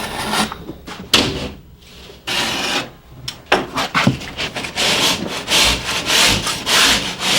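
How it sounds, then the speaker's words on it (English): A utility knife scores and cuts drywall along a chalk line, producing close, uneven scraping and rasping strokes with short pauses between cuts. "We mark the angle with a chalk line and cut with a utility knife."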